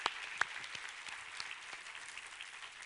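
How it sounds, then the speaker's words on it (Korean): Church congregation applause, a soft, distant patter of many hands clapping steadily, with a couple of sharper individual claps near the start before settling into an even, faint texture. "우리 하나님께 감사와 영광의 박수 올려드리겠습니다"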